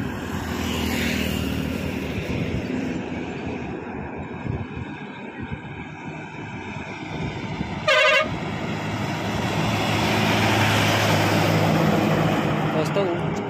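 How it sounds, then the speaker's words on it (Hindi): A loud Leyland truck air horn blasts once, briefly, over the steady rumble of traffic and engine noise. "उस्ताद ने हॉर्न बजाया अच्छा सा।"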